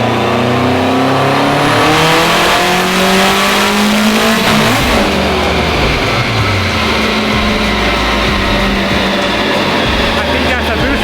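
Honda Civic Type R running E85 at about 26 psi of boost accelerates hard with a loud, rising engine roar, then hits boost cut and the note stutters and drops into choppy popping; voices talk over it.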